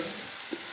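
Fried potatoes go into sizzling spice masala in a pan, giving a continuous hissing fry with one brief soft knock, moderately quiet and close, with no talking.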